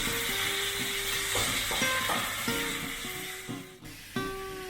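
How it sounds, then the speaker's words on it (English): Green chilies sautéing with corned beef masala in a hot pan give off a steady, close sizzle that runs throughout, with a melodic tonal backing underneath. "Now add the green chilies as well to this and saute them for another minute or 2 minutes."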